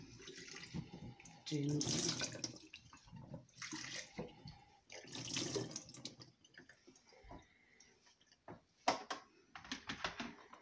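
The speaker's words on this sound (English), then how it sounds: "And I'm just washing my grape now." Tap water running over grapes being washed in a sink, intermittent splashing and trickling bursts with drips, close and fairly quiet, with a voice speaking briefly.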